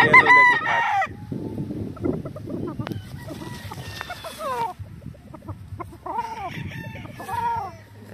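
A yellow-legged hatch rooster crows several times in drawn-out calls, with clucking and other fowl nearby on a farm, fairly close and loud against steady background noise.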